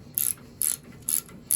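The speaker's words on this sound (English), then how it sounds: "I removed the circulator flange bolts from the bottom part of the circulator." Ratchet wrench loosening the flange bolts on the bottom of a boiler circulator pump, giving four short bursts of clicking spaced roughly evenly, close and moderately loud.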